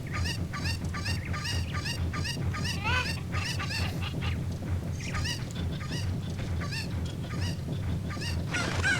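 Cucco chickens in Kakariko Village in The Legend of Zelda: Ocarina of Time give repeated squawking clucks in quick bursts, set over a steady low hum of game background sound.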